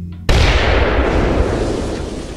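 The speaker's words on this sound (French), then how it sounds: "une énorme explosion va retentir" A huge explosion goes off at the main door of a complex, a sudden loud boom that cuts in and then rumbles and crackles away over the following seconds.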